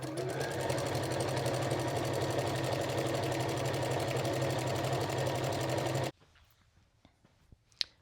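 A sewing machine stitches steadily around the edge of fabric for reusable paper towels, a fast, even whir that cuts off abruptly and leaves a few faint handling clicks.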